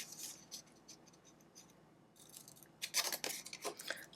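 Scissors snip through paper at an angle in a few short, quiet crisp cuts, spaced out at first, then quicker, closer snips toward the end, with no talking.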